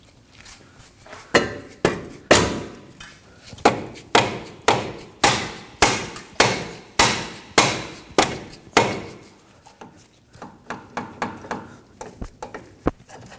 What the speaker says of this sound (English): Using a rubber mallet, we're going to go ahead and hit on this area to detach the lower ball joint